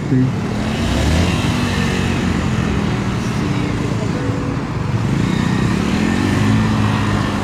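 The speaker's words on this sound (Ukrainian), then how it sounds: "чуємо, да, як підскакують оберти" Bajaj Dominar 400 motorcycle engine revving at a motorcycle gymkhana competition, a steady loud drone with rising and falling rev tones, heard amid continuous voice commentary.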